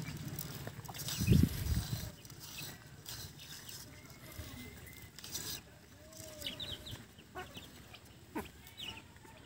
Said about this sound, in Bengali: দেখছেন আমার মুরগিগুলো কত সুন্দর সুস্থ আছে।